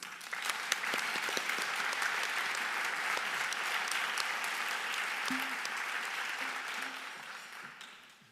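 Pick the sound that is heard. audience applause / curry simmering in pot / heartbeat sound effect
audience applause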